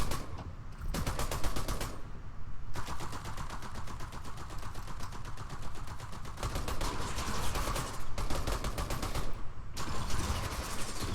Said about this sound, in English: There's the War Machine Arsenal, just absolutely lighting people up.